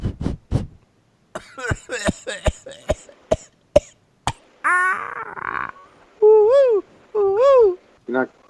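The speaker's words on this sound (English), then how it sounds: "You're not coughing hard enough" A person coughs in a series of sharp, close bursts, followed by strained wheezing and gagging noises in a podcast setting, with a voice speaking in between.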